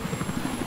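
A Little Bird helicopter flies in Battlefield 4, its rotor giving a steady, loud, pulsing thump that beats rapidly and evenly throughout the short stretch.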